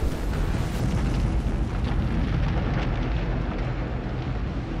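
A building blown up by a demolition charge in a TV drama, heard as a sustained, dense low rumble with crackling debris that rolls on without a break for the whole stretch.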